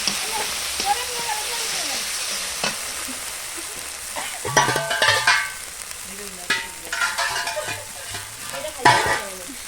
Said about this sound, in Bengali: এবার আমি এটাকে ভালো করে একটু কষাবো যাতে কাঁচা কাঁচা মশলার গন্ধটা না থাকে